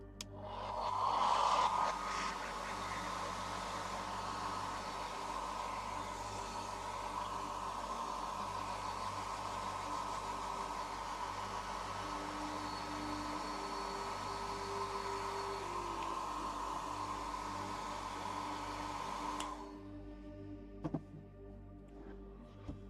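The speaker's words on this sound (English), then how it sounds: "Hair dryer again." A hair dryer, used to clear release agent off cast parts, blows steadily for nearly twenty seconds, a continuous airy whoosh with a whining tone that starts with a louder burst and then stops abruptly, leaving quiet room noise.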